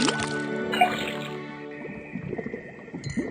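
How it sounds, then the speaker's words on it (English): Liquid pours from a tapped faucet into a cauldron in the video game Detective Grimoire, with a sustained tonal chime fading into soft squishy, drippy bubbling and gurgling that runs alone for a few seconds. "then tap the faucet"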